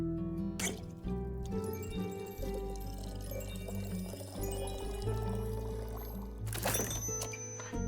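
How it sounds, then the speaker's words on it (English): A drink being poured into a glass in a fantasy tavern game setting, soft trickling and liquid gurgles running under background music and chimes at moderate level. "that's an easy pour"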